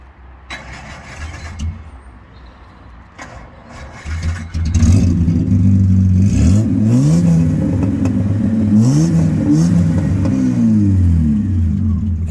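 A 1974 Jaguar XJ6 with an XK engine and a blowing exhaust cranks and fires after quiet talk and shuffling, then settles into a loud, throbbing idle with several rising and falling revs.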